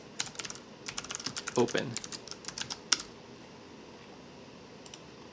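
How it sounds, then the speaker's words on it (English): Fingers tap quickly on a computer keyboard in uneven bursts of clicks for about three seconds. After a pause there is a last brief flurry, and a single spoken word sits faintly among the keystrokes. "Okay, I'll type it."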